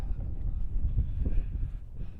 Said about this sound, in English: Oh, that wind. Didn't think it'd be that bad today.